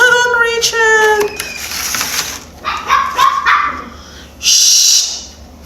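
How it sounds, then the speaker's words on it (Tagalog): A dog barks and yips several times close by, with a voice and some household sounds in between. "Ingay ng aso."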